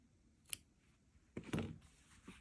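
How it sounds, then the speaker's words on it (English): Scissors snip crochet yarn short on a finished placemat, making two or three quiet, close cutting clicks with brief pauses between them and no talking. "Go ahead and cut that short."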